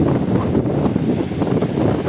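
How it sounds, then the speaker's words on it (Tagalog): Strong typhoon wind on the coast at Dinahican, Infanta, Quezon roars steadily against the microphone, a continuous low buffeting rumble with no pauses, loud and close throughout. "malakas pa ang hangin"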